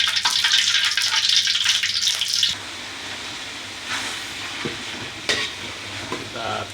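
Spice paste sautéed in hot oil for ayam or bebek ungkeb hisses loudly for a couple of seconds, then settles into a quieter, softer crackle broken by a few light clanks.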